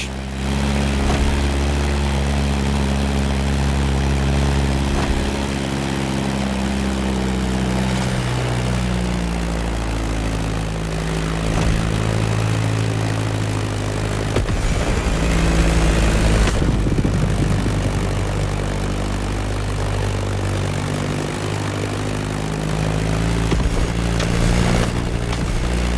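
A Beechcraft Staggerwing propeller plane in the racing game The Crew Motorfest drones steadily in flight, a loud, close, continuous engine and propeller hum with shifting pitch over background music.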